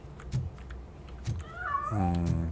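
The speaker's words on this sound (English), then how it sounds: "That cat must be hiding inside." A cat in the video game Robocop Rogue City meows, building into one drawn-out, clear meow near the end after a few soft thumps, close and alone.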